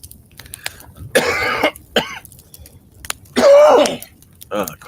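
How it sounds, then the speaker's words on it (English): A person coughs several times close to the microphone in a quiet room, harsh wheezy bursts with brief throat-clearing sounds between them. "The cough wasn't part of the story."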